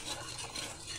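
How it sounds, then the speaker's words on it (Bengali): A brief, faint burst of stirring as salt and ghee are mixed in a pot, a soft continuous scraping hiss lasting about a second. "নুনটা একটু ঘেটে দিলাম"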